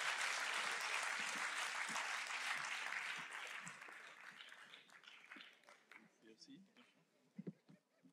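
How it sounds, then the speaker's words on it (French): Audience applause at the 2012 Elwa d'Or awards ceremony, a broad wash of clapping that starts full and loud, then thins over several seconds into scattered claps, with a voice speaking faintly underneath. "Sous vos applaudissements."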